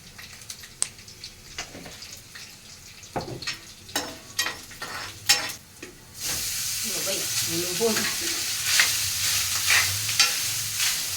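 Clattering and scraping in a pan with sharp taps, then a loud steady sizzle of a tempering with dried red chillies frying takes over, with brief stirring noises on top.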